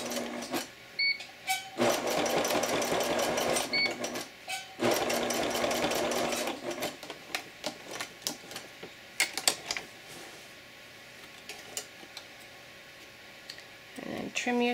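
A sewing machine stitching fabric for a bib apron, with backstitching: bursts of rapid mechanical needle chatter start and stop several times, close up, while someone talks over and between the runs.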